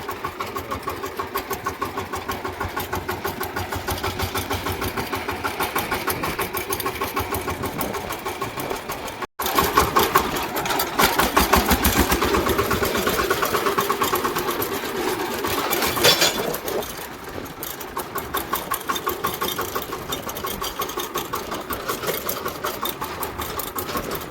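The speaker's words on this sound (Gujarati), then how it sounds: "ચાલો ટ્રેક્ટર નીકળી હાલતું હવે" A tractor engine runs steadily with a rapid chugging rhythm, loud and close, briefly cutting out and then revving back up; no voices.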